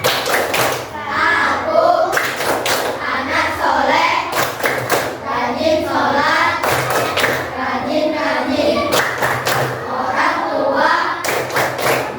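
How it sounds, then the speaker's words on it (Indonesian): Children clapping and chanting the rhythmic "tepuk anak soleh" routine in a grade 6 primary school class, with bursts of claps breaking up the group chant in a steady, patterned rhythm. "Ayo, tepuk anak soleh."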